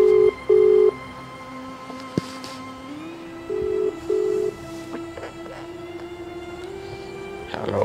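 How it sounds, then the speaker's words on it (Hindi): Phone call ringback tone from a handset, sounding as a few steady electronic tone pulses near the start and again midway, with quiet room noise between. "दोबारा कॉल कर रहा हूँ।"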